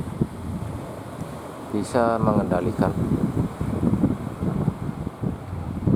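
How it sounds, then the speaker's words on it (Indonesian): Wind buffets a camera microphone at sea off Plawangan Puger, a steady rough rumble and hiss throughout, with a person talking over it in the middle. "ini ada angin"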